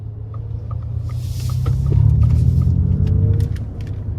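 A 2023 Ford F-150 Lightning Platinum electric truck accelerates hard, with a low road and motor rumble that swells and peaks midway, plus light rattles and ticks from inside the cabin.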